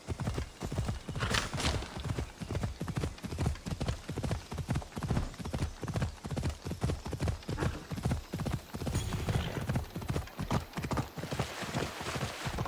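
A horse gallops in Assassin's Creed, a steady, rapid clip-clop of hooves lasting over twelve seconds, close and fairly loud, with a brief whinny and occasional faint voices.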